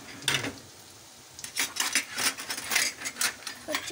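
Paneer curry with chili powder being stirred in a pan, giving a run of scraping metal clinks and clatters that are quiet at first and then come thick and steady.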